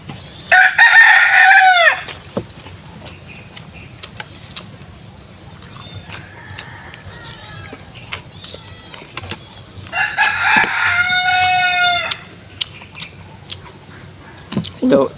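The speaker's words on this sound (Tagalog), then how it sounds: "Ito, buhay pa yung manok mo, Day." A native chicken rooster crows loudly twice nearby, each call a long rising-then-falling cock-a-doodle-doo, with quieter clucks and background sounds between and a voice speaking briefly.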